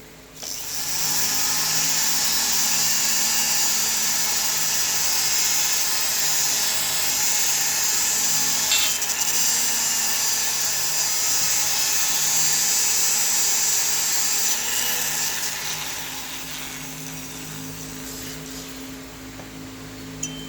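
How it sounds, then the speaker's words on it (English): Small Scotch-Brite wheel on a rotary tool scrubbing aluminum transfer from a two-stroke cylinder bore, a high-pitched steady whine held for about fifteen seconds before winding down, close and alone. "I have these little Scotch-Brite wheels, so let's look at how bad this spot here is"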